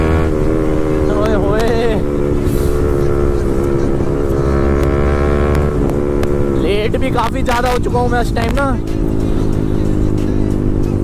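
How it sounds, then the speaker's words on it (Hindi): A motorcycle is ridden with its engine droning steadily and loudly throughout, its pitch rising and falling with the throttle. Someone talks over the engine noise. "काफ़ी दिनों बाद बाइक चला रहा हूँ,"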